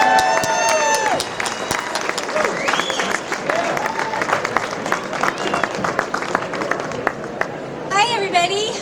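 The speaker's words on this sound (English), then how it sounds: "So if I can get a big round of applause for, I call her A1A," Steady applause fills the room at a gala honoring El Dorado County's first responders, dense clapping with a few cheers, continuing until a voice begins speaking at the end.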